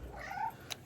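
A cat meows once, faintly, among several cats circling for food and water, a short close cry with a brief sharp click at the end.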